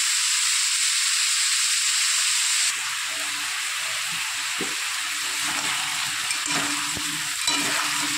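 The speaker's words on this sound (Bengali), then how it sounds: "একটু হালকা ভেজে তারপর জিরের গুঁড়ো, লঙ্কার গুঁড়ো, হলুদ দিয়ে দেবো।" Potato and pumpkin pieces fry in hot oil with cumin, chili and turmeric powder, giving a steady close sizzle that softens after a few seconds, joined by scraping stirs and small clinks.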